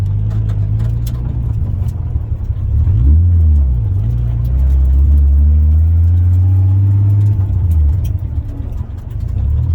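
A budget-build car with manual steering and manual brakes on its first drive gives a loud, close low engine rumble that swells as it accelerates from about three seconds on and holds steady after.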